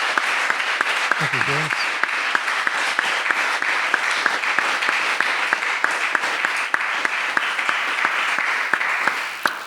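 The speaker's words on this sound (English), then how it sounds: "I'd like to give a big round of applause and appreciation." A theatre audience applauds at an evening literary dialogue with the Archbishops of Armagh: dense, steady clapping fills the whole stretch, and a brief spoken thank-you cuts through near the start.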